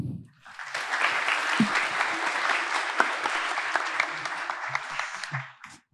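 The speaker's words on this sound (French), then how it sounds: "Merci d'applaudir Richard." Audience applause at a live storytelling evening, a full burst of clapping that swells quickly and holds steady for several seconds before tapering off, with a few nearby claps standing out.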